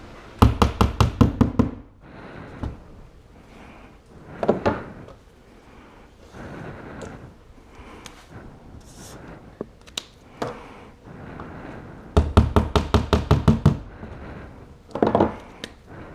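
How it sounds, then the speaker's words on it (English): Hammer tapping a nail into a wall stud to check marks, sharp knocks in quick rhythmic clusters at the start and end, with scattered single taps and handling noise between, close by. "use a nail and a hammer just to check all your marks to make sure you're actually hitting wood"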